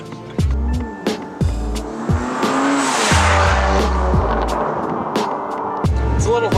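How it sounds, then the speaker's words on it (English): A car is driven with newly installed inlets, giving a loud steady engine and road roar close to the microphone, broken by repeated sharp thumps and rattles from bumps along the way. "Go on a little bit of a drive because I just got my inlets installed."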